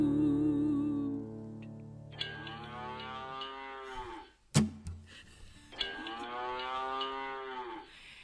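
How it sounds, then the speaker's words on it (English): Two long, loud moos from a cow in Texas, each a drawn-out lowing call several seconds long, separated by a brief sharp knock, with no talking. "Is that a cow?"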